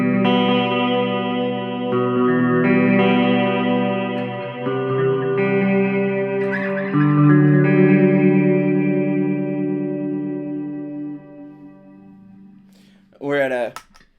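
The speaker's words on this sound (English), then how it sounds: "I want to have some of that modulation on the reverb" Sustained electric guitar chords washed in shimmering, wavering modulated reverb that swells and slowly fades, ending with a brief bright strum.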